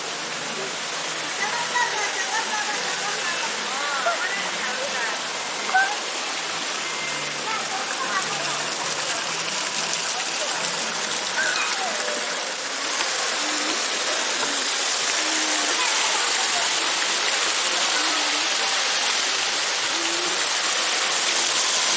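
A child splashing and playing with water, heard as a steady wash of splashing and running water close by, continuous for the whole stretch without pause.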